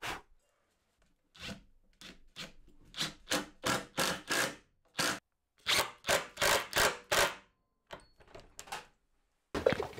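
Finish rubbed into wood on a homemade TV stand and shelves, heard as a series of close, loud rasping strokes of cloth over the surface, coming in rhythmic bursts with short pauses between them.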